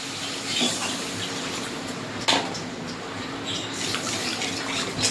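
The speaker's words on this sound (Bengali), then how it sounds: "এবার জল দিয়ে দেবো" Water poured into a pan of mustard-paste pomfret fish curry, a steady splashing rush that runs for several seconds with one brief sharp clink partway through.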